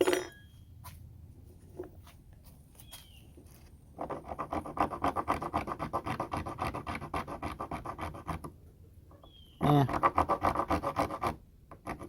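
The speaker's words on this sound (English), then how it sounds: "Let's see if it'll saw anything." A small survival saw from a tool pack rasps through wood in quick back-and-forth strokes, close and fairly loud, with quieter scraping at first and two sustained bursts of rhythmic cutting.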